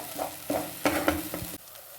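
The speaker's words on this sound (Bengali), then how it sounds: "এবার হালকা ফ্লেমটাকে লো করে দিয়ে এটাকে ভালো করে মেশাতে হবে এটার সাথে, মশলাটার সাথে" Spice paste is stirred into a mushroom curry over a low flame, with a few short scraping strokes of a spoon against the pan over a soft sizzle, close and brief, with no talk.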